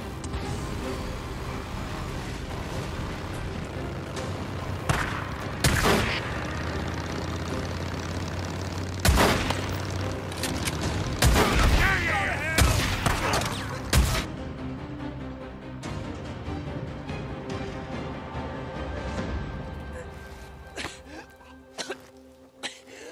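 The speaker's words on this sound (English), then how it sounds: "Shoot the bike, Dick! Shoot the bike!" Gunfire in the video game Days Gone as shots are aimed at a fleeing motorbike: several sharp bursts and loud bangs spread across the stretch over engine rumble and game noise, with someone shouting between them.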